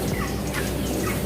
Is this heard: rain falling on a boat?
no